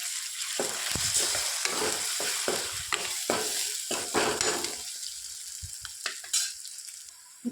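Ginger going into a pan with bitter gourd and tomato curry cooking, heard as steady close frying and sizzling with repeated stirring scrapes and spoon knocks through the whole stretch, no voices.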